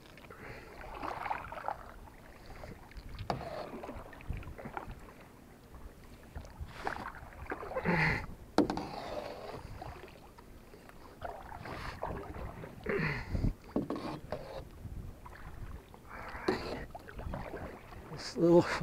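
A canoe or kayak paddled on still wildlife-filled water gives soft intermittent splashes and strokes, fairly quiet and close, with someone talking over much of it and some wind noise.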